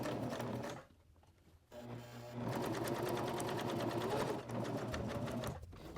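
Sewing machine stitching a very narrow seam around a small pieced fabric Christmas tree ornament, a fast steady whirring hum that pauses briefly twice before running on; close and fairly quiet, with no voice.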